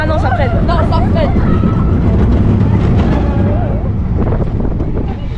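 A roller coaster in the Naruto-themed Konoha Land at Parc Spirou Provence speeds and brakes, a loud, close rushing wind roar throughout with riders' voices shouting over it, easing slightly at the end.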